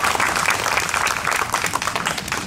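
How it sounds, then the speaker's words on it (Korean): Dense, steady applause from a crowd of people at an outdoor acoustic guitar concert at Ilsan Lake Park, many hands clapping continuously at a lively level. "박수!"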